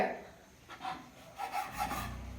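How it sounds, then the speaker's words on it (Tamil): A knife trims the crusts from bread slices in short, soft rasping strokes, several quiet cuts in quick succession heard up close without speech. "4 ஓரத்தையும் நைஃப் வச்சு லைட்டாக இதை இந்த மாதிரி குறுக்க"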